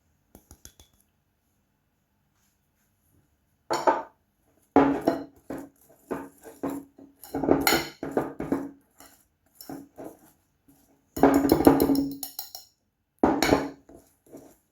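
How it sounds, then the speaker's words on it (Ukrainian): Room-temperature butter rubbed together with powdered sugar in a bowl, heard as irregular bursts of scraping and clinking from a utensil against the bowl, separated by quiet pauses. "Ми його розтираємо. І сюди ж ми додаємо цукрову пудру."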